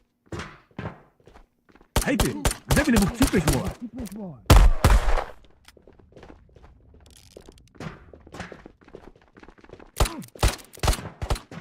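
Gunfire in the VR shooter Ghosts of Tabor, heard as a burst of sharp, loud shots clustered together, then scattered thuds and clicks with a few more shots near the end, under intermittent talk.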